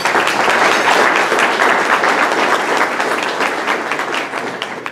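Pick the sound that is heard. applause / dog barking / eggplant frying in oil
applause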